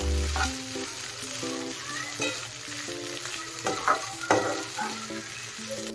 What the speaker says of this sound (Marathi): व्यवस्थित ह्याला असं मिक्स करून घ्यायचं आहे आता